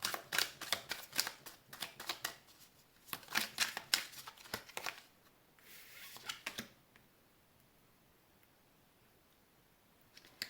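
Tarot cards riffled and shuffled in a quick burst of crisp flutters, then slapped and laid down in softer, sparser taps, close and fairly faint with no voices.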